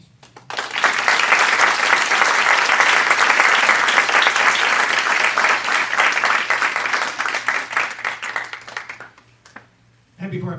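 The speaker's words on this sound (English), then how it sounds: "a little applause to our audience" At a high school jazz concert, the audience breaks into loud, sustained applause for several seconds before it tapers into scattered claps and a voice speaks at the end.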